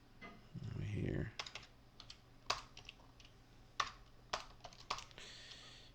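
Typing on a computer keyboard while writing C++ code, with irregular bursts of sharp key clicks and a few louder taps in a quiet room. A brief voice-like sound comes early on.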